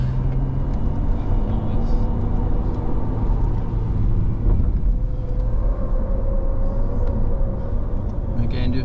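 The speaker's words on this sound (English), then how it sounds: "I'm just going full throttle" Ford Ranger driven at full throttle around a racetrack circuit, a steady loud engine drone and road rumble filling the whole stretch without letup, with faint vehicle noise underneath.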